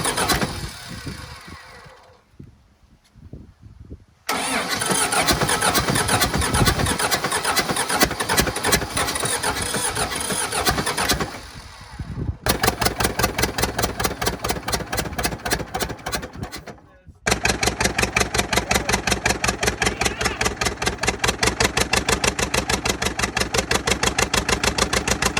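An old seized tractor engine, freed up with Coke, cranks and fires after a blocked fuel supply is cleared, then settles into a loud, steady rhythmic idle close by, with brief pauses between starting attempts.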